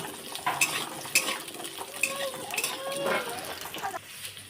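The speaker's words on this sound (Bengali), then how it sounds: "আলুটা ভালো করে ভেজে নেব" Potatoes fry in a pan with dried red chillies and black cumin seeds, giving a soft sizzle beneath repeated scraping and clinking of a spatula stirring against the metal pan, close and steady with no speech.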